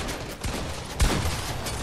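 Gunshots in the video game Fortnite come as a quick burst of loud, close shots with a sharp crack about halfway through, over a steady noisy game background and with no talk.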